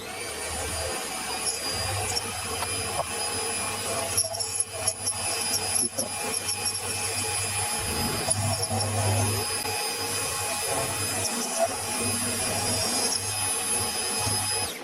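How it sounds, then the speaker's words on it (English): Steady milling machine whine while cutting a slot, with a low motor hum and high tonal squeal, continuous for the whole stretch, close and moderately loud with occasional chatter. "Now I have to mill a slot in here actually on this side"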